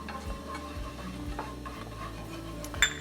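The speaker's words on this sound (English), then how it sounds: "We're gonna whisk it all together." Flour, black pepper and oil are whisked together in a pan for sausage gravy, making a close, rhythmic scraping and swishing with soft ticks and a small clink near the end.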